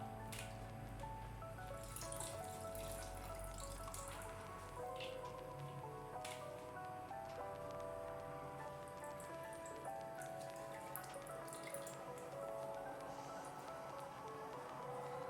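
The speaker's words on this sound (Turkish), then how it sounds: "Suyunu sıkarak alıyorum kasenin içine." Washed cabbage squeezed by hand so its water drips and trickles into a bowl, a continuous soft patter of drops and splashes with steady background noise throughout.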